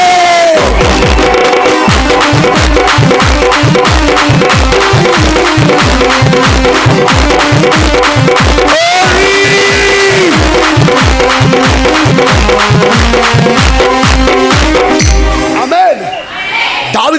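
A church congregation claps in a steady rhythm along with loud worship singing and music, the claps sounding as regular sharp beats under the voices until they fade near the end.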